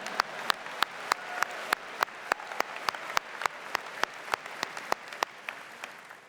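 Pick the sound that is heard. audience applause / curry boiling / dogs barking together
audience applause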